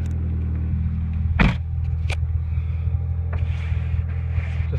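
A high-mileage 1999 Chevrolet Cavalier with a 2.2 engine, cold at -12C, runs as a steady low rumble close by, with a sharp burst near the start and a few faint clicks over the idle.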